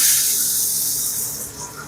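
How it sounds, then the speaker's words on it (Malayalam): Small shallots dropped into hot ghee with mustard seeds give a loud, close, steady sizzling hiss that eases off slightly toward the end, with no talking. "അതിലേക്ക് നമ്മുടെ കുഞ്ഞുള്ളി ഇട്ട് കൊടുക്കാം"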